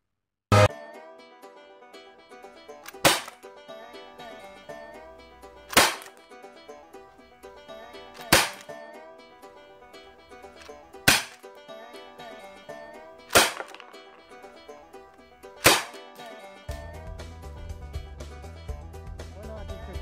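Test shots from a Cybergun Colt Python .357 CO2 airsoft revolver: about seven sharp, snappy cracks spaced a couple of seconds apart, each standing out loudly over a continuous music bed.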